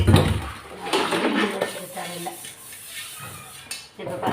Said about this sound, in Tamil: பெரிய பெரிய கடாயி, பெரிய பாத்திரம் எல்லாத்தையும் நல்லா கழுவி.